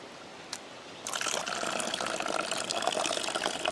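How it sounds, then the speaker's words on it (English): Cold water poured from a height splashes onto bush coffee grounds, starting after a brief quiet moment with a faint click, then a steady, close, bright trickling and spattering that continues alone. "And then you take cold water and pour it from a height."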